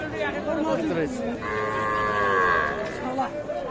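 Bulls at an open-air village cattle market give one long, loud moo, with lower lowing around it and the murmur of a crowd talking in the background.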